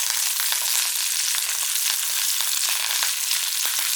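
Monkfish frying in hot oil gives a steady, close, loud sizzle with dense crackle and small pops, unbroken from start to finish with no talking.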